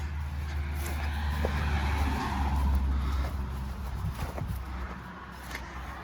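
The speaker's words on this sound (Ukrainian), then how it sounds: "Зараз ще покажемо цей комбайн запущений, включимо машину на ньому." A Claas Dominator 68 combine harvester runs with a steady low engine drone throughout, loud and near, with a few faint knocks and clatters rising above it.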